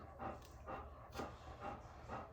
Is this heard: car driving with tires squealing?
no